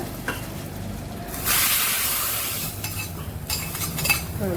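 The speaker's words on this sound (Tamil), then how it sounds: "இதையும் இந்த தாளிப்பை போட்டுடுறேன்." Tempering spices drop into hot oil in a pan, bursting into a loud hissing sizzle that slowly fades, with stirring scrapes before and after.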